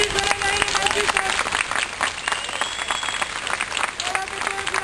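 Crowd applause at an October 28 military parade, a broad wash of dense clapping that holds steady throughout, with faint voices mixed underneath.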